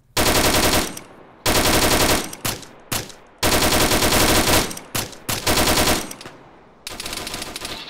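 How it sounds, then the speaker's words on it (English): Loud, close machine-gun fire in the Arma military game, several long sustained bursts separated by short gaps and ending in a slightly quieter burst, with no talk over it. "They're putting some suppression on that. Looks like they're firing at us."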